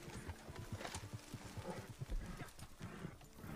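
Horse in a wild west video game clip-clops along with quick, rhythmic hoofbeats and occasional snorting, continuous and fairly close but quiet overall.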